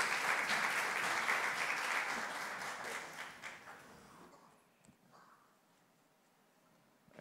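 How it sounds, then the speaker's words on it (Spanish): Audience applause at an innovation and productivity forum welcoming a speaker, a burst of steady clapping that fades out over a few seconds into near quiet, with one late clap. "quiero darle un cordial aplauso y una bienvenida al señor Rafael Berguán"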